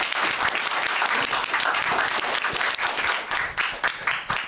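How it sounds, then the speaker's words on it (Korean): An audience at a chemistry lecture by an energy engineering professor gives dense, continuous applause to welcome the speaker. The clapping is loud and sustained, then thins slightly toward the end. "큰 박수로 환영하도록 하겠습니다."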